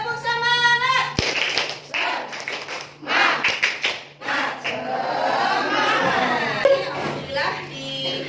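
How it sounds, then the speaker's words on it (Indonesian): A class of sixth-grade children at an Indonesian elementary school performs a rhythmic spirit clap, patterned bursts of hand claps mixed with children's voices and chanting, loud and close in a classroom. "Oke, tepuk semangat."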